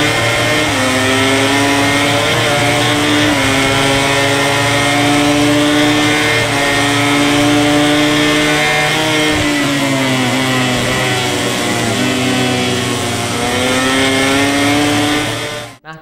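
Racing motorcycle engines in the video game MotoGP 2017, a continuous loud whining drone that rises and falls in pitch as the bike shifts gears, with no talking.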